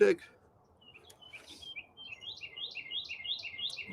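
Several birds chirp in a quick repeated series of short high tweets, moderately loud and growing busier toward the end over a faint background murmur.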